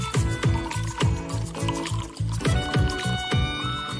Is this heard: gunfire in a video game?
no